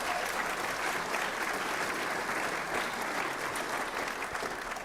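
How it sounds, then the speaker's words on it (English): A large audience at an elevator pitch competition gives a round of applause for the Rice Alliance team. The clapping is sustained and even throughout, a continuous wash of many hands with no voices over it. "How about a round of applause for the Rice Alliance team?"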